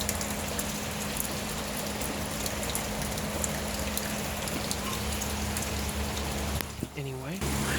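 Steady outdoor rain falls near trees in a constant soft patter across the whole stretch, with a faint low hum underneath; the rain drops away briefly near the end as a short, sweeping rustle passes close by.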